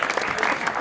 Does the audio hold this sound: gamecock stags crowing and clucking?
no